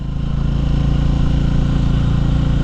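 A Bajaj Pulsar N250 motorcycle labours up a mountain slope, its engine drone steady and loud throughout, with a pulsing low rumble and no voices.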